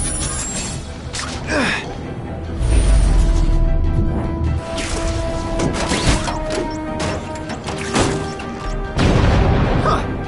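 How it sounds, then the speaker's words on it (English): Fireworks burst in The Amazing Spider-Man 2 video game: several loud, irregular booms and crackling pops over game music and effects. "Friendly neighborhood fireworks."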